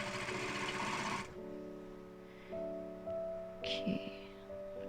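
Sewing machine stitching a seam on a fabric joey pouch, a steady close whir for just over a second, then the motor's hum carries on more quietly with a light clack near the end.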